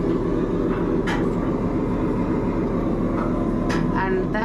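Steady low machinery rumble fills the engine area aboard a Royal Navy submarine at Gosport, a constant dense drone with faint clanks, heard close.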